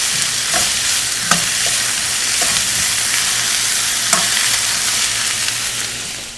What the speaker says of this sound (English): And the garlic and ginger. We'll add the salt here, and that just helps break down the onions.